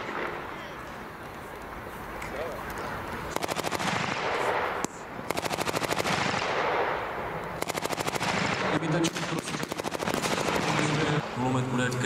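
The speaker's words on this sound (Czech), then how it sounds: "Kulomet bude krýt ústup další části družstva." Machine gun firing in bursts during a military reenactment at a military technical museum in Lešany, the rapid rattling volleys loud and close, broken by short pauses, with crowd noise and talk underneath.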